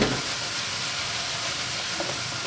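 Chopped onion frying in a pan with oil for a potato tortilla, giving a steady, close hiss and sizzle that holds even and continuous with no voices.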